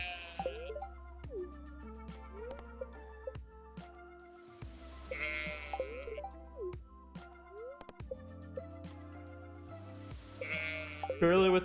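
Cartoonish sheep bleats from the farming game Stardew Valley rise in repeated bursts over light game music and soft drips, fairly close and moderate in level.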